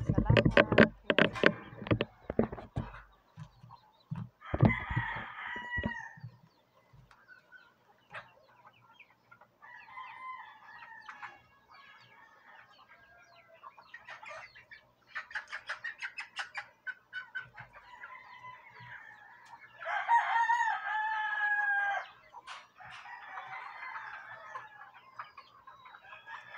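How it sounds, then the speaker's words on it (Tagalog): Chickens and roosters in their coops, with loud clucking and squawking up front, then repeated rooster crowing and clucking from different birds at moderate distance, under occasional quiet background sounds. "napakarami na ang manok ko"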